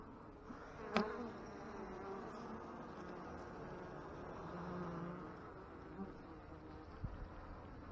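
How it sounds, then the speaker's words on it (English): Wasps buzz around a beekeeper at the hives, a faint continuous drone with a few sharp nearby knocks. "I've got wasps around me."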